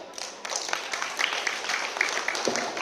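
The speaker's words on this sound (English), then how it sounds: "Clap for yourself." A classroom audience at a Class 3 fancy dress competition claps for themselves, a steady patter of many hands under faint crowd noise and brief voices.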